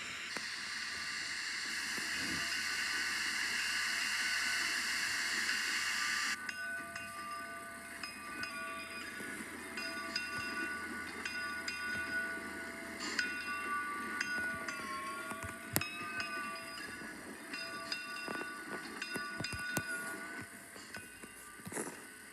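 A train on the Wiscasset, Waterville & Farmington line slowly pulling into a station, with a steady rumbling hiss that gives way to squealing wheels and metallic clanks and creaks, fairly loud and close, without talk.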